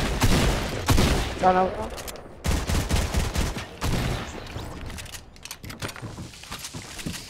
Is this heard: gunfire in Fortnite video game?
yes